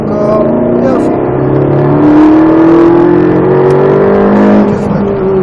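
A Ferrari 458 Italia engine at full throttle on the Croix-en-Ternois circuit during a sprint racing session, its loud high-pitched note climbing steadily through the revs from inside the car.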